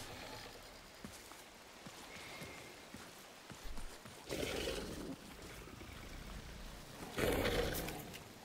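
Howler creature in The Cycle: Frontier roaring in a game fight, with two loud, broad roaring bursts rising over steady background game noise.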